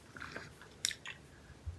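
Freeze-dried sour Skittles candy is chewed up close, with a few crisp, crunchy bites and softer chewing between them against a quiet background.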